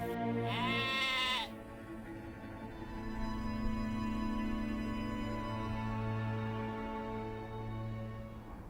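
A domestic sheep kept on a farm bleats once, loud and near, a short wavering cry followed by low rumbling background noise with no further calls.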